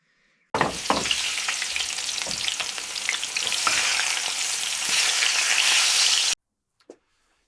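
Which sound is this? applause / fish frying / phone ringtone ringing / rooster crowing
fish frying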